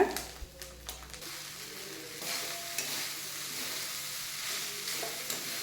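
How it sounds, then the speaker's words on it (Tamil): Soaked flattened rice (aval) is stirred with salt in a pan, giving a few sharp taps and clicks at first, then a steady close frying sizzle with soft scraping strokes and no voices. "இது கொட்டிட்டு உப்பு கொஞ்சம் போட்டு நல்லா கிண்டி விட்டுருங்க."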